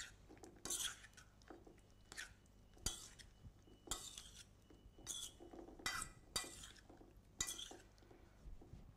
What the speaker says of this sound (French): Puis nous allons simplement mélanger le tout. Donc sans trop mélanger pour pas trop abîmer nos framboises.